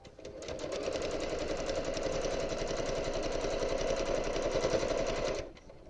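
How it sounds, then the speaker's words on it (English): A sewing machine runs steadily for about five seconds, stitching binding onto the edge of a quilt, its rapid even needle rhythm loud and close before stopping abruptly. "I'm going to drop my needle there, and I'm going to start sewing down this edge"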